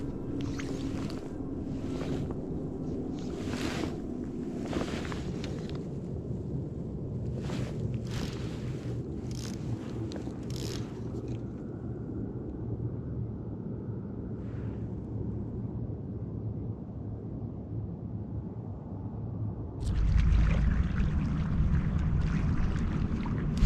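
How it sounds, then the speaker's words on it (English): Wind rises by a mountain lake, a steady broad rush with several brief gusts and bumps, swelling louder near the end. "The wind just started picking up"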